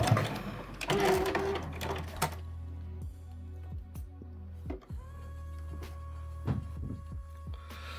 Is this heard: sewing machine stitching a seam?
yes